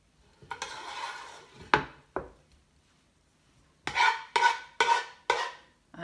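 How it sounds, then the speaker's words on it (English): Alfredo sauce is scraped over lasagna noodles in a pan, producing several close, sharp spoon-on-pan scrapes in short bursts, with quiet gaps between strokes and no talking. "I'm sorry that you're hearing me scrape"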